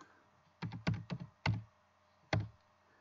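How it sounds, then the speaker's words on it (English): A computer keyboard is typed on while a name and password are entered into a server admin interface: a handful of soft, close key clicks in two short bursts with a pause between, no talking. "You're going to type a name and a password."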